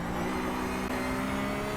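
Race car engines in an iRacing sim race at the Nürburgring drone steadily and loud while closing on traffic, a continuous mid-pitched roar with no talking.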